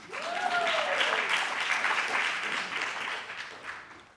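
An audience at a Los Angeles screening program breaks into sustained applause, a full wash of many hands clapping steadily throughout, with a brief voice or whistle-like tone rising near the start.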